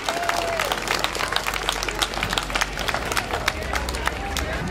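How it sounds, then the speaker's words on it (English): Audience applauding at a food bank celebration event, scattered claps spread across a roomful of people, moderately loud and steady throughout with crowd murmur beneath. "Please give her a warm welcome and a round of applause."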